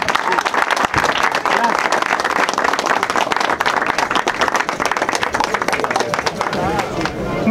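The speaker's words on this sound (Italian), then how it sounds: "Quindi un caloroso applauso ancora" Warm, dense applause from a large crowd at a fireworks show, loud and continuous, with crowd noise blended in.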